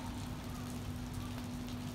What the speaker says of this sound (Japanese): 今日はね雨ですあいにくのこのあと夕方いっぱい降るみたいですけどね